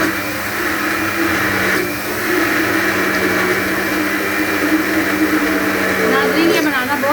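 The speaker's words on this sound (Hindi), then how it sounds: "अब हमने ये ब्लेंडर में डाला।" A kitchen blender churns cream with splashes of water into homemade butter, a loud, steady whirring drone that fills the whole stretch with a brief dip in pitch partway through.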